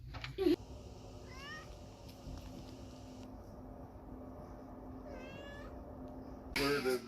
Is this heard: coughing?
no